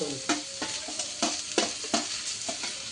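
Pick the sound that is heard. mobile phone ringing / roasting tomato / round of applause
roasting tomato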